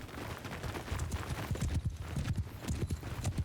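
Cavalry horses gallop in the battle game Mount & Blade II: Bannerlord, a dense, rapid clatter of many hoofbeats drumming continuously under faint ambient noise.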